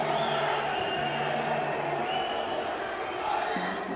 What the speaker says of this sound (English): the reaction from the crowd, the noise, the fact that it gets them fired up